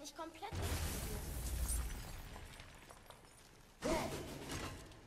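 A loud crunching burst of shattering as a crystal explodes in a video game breaks out, then cuts off before a second sharp blast hits near the end; no talk over it.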